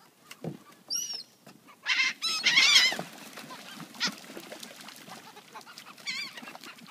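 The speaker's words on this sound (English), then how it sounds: "This is the million seagull frenzy right here." A flock of gulls calling in scattered bursts, some harsh squawks loud and near, others fainter, over a quiet outdoor background.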